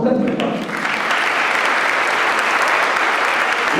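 An audience at a sports festival talk applauds the athletes with sustained, dense clapping from start to finish, following a brief spoken phrase at the opening.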